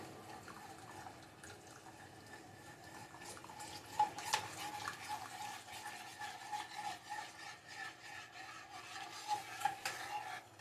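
A spoon stirs cornstarch slurry into homemade sweet and sour sauce in a pan, producing quiet, continuous scraping and liquid swirling with a few light clinks, faint and close with no talking.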